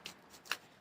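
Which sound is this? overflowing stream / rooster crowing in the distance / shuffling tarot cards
shuffling tarot cards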